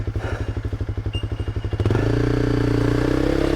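Royal Enfield Himalayan 450 or CFMOTO 450 MT adventure motorcycle rolled over an off-road obstacle, its engine chugging in a steady loping idle that jumps to a louder, smoother rev partway through, close and alone.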